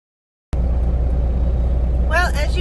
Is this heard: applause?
no